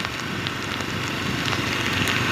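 Heavy rain pours down steadily, a dense close hiss of drops on surfaces with no voices, slightly swelling toward the end.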